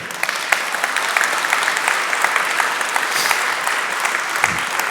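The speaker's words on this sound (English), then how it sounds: "Okay, so first a round of applause." An audience at a WebAssembly and distributed computing tech conference breaks into sustained applause, a dense steady clapping that fills the room for the whole stretch with no talk over it.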